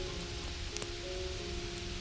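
Steady rain patters outside in a soft, continuous wash with a few brief drip ticks, even and moderately distant, with no talk.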